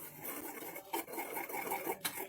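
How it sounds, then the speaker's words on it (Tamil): A whisk mixes a spicy dip batter in a bowl after salt is added, producing close rhythmic scraping and rasping strokes with a few sharper clicks against the bowl, moderately quiet and with no talking. "சால்ட் ஆட் பண்ணதுக்கப்புறம் இப்போ வந்து நம்ம விஸ்க் வச்சு இப்போ மிக்ஸ் பண்ணிக்கலாம்."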